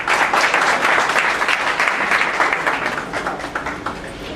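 Audience at an award ceremony clapping steadily as a prize is presented, a dense, even round of applause from a sizeable crowd that tapers slightly toward the end.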